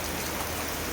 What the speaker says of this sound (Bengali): আর শুধু বৃষ্টি না, বৃষ্টির সাথে জোরে জোরে হাওয়াও দিচ্ছে।